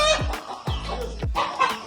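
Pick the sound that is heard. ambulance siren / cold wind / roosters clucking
roosters clucking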